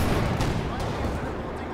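Heavy cannon fire from a Panzer IV tank in the strategy game Company of Heroes 2, with booming battlefield blasts and rumbling combat noise under a commentator's voice.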